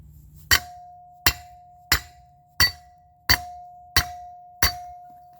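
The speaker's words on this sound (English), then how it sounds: "there's a couple of taps with a hammer and it closed up" Seven evenly spaced hammer taps on metal of a Jeep Wrangler axle ring out one after another, each leaving a steady high ringing tone, close and loud with no talking.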